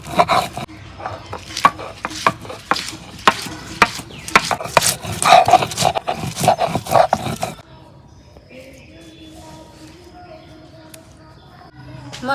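Ginger, garlic, onion and green chili are ground on a stone slab and grinder, giving rapid rhythmic scraping and knocking strokes close by for several seconds before the sound drops to a quiet background.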